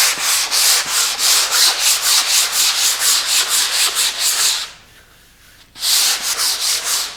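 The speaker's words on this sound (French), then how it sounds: "je le fais à la main, comme je vous le disais, avec une cale à poncer" Varnished parquet hand-sanded with a fine 180-grit abrasive on a sanding block, brisk rhythmic back-and-forth rasping strokes close and loud, briefly pausing for about a second before the strokes resume.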